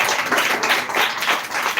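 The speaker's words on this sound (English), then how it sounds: "Once again, clap for her." Brief burst of clapping from a small audience during an English-learning session, a few hands patting in uneven pulses, fairly close and loud, with no talk over it.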